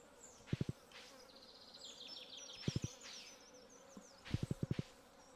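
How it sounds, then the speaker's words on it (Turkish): Insect buzzing from a fly in Stardew Valley gameplay: a game sound effect with short bursts of rapid buzzing pulses repeated in several clusters over a steady background, with no talking. "Sinek sesi nereden geliyor?"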